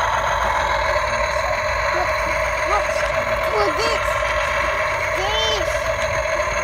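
A toy fire truck in a store plays its recorded engine rumble with short electronic beeps and siren-like chirps scattered over it, moderately loud and close, while people talk nearby.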